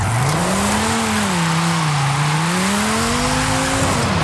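A drift car's engine in Forza Horizon 5 hums steadily at low revs, its pitch rising and falling in slow swells over a few seconds, loud and close with a faint tire-squeal edge and no talking.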